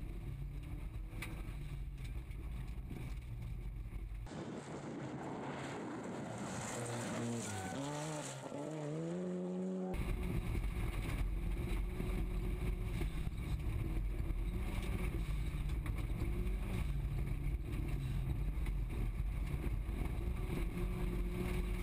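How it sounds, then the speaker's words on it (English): Volkswagen Golf rally car driven flat out on a gravel stage at the Olympus Rally, engine roaring loud and constant from onboard with revs rising and falling through gear changes. "Let's go on board with them and watch as Tom abuses the Volkswagen Golf as much as possible"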